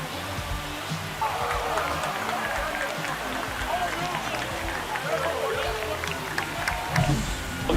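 A baseball stadium crowd, Diamondbacks at Dodgers, cheers after a home run, a steady broad roar of many distant voices held throughout while a commentator talks over it.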